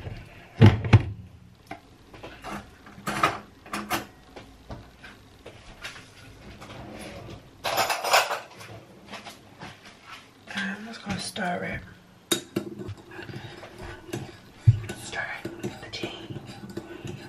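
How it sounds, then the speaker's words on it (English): A spoon stirs sweet tea in a cup, giving light, scattered clinks and scrapes against the cup's sides. Quiet whispered talk runs over it. "just stirring the tea."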